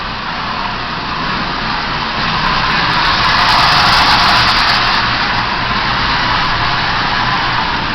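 A Marx 898 tin toy locomotive pulling three tin litho cars, one with a replaced 556 shell, runs on its track, making a continuous close-up rattling whir that swells slightly midway and stays steady to the end.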